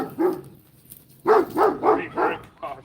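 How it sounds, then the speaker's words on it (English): A dog barking nearby, with one bark followed by a rapid run of four loud barks and a softer final yelp, with no talk over it. "The dog is active as hell."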